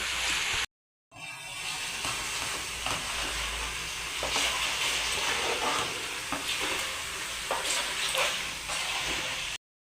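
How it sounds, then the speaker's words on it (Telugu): Ingredients for Indian gooseberry chutney, with tamarind, frying on a stove, a continuous crackling sizzle with occasional stirring scrapes, broken by two short silent gaps at the start and end. "ఇది బాగా ఆగాలండి వేగిన తర్వాత స్టవ్ ఆఫ్ చేసేసుకో"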